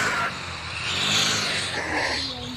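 Car engine running in the video game Car Simulator 2, a steady broadband drone that swells and eases over a few seconds, with a rising tonal whine near the end and no talk.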